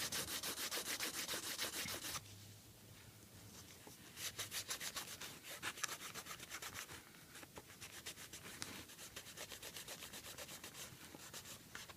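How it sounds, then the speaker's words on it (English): Leather edges being slicked and smoothed by hand rubbing make a close, dry, rasping friction with quick repeated back-and-forth strokes, pausing briefly before the rhythmic rubbing resumes. "concentrate on smoothing up and slicking down those edges"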